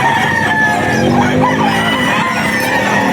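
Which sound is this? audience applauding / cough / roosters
roosters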